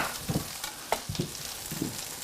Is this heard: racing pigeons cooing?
no